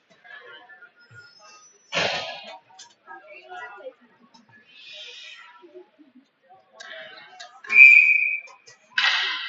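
A referee's whistle at an ice hockey game sounds in the third period, one sharp shrill blast ringing out in the rink after scattered arena noise and commentary.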